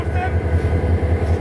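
A Chittagong to Cox's Bazar local train runs with a steady loud rumble and rhythmic low pulsing from the carriage, heard close from on board.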